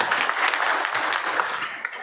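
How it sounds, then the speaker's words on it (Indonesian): Audience applause at an LSM Lira Indonesia national working meeting and 20th anniversary event in a hotel ballroom, a steady wash of clapping held at even loudness throughout, with voices mixed in. "Tepuk tangan buat beliau."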